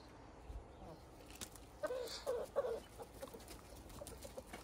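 Chickens in a backyard garden coop give a few faint, soft clucks in the middle of the clip over quiet outdoor background noise, with no nearby talking.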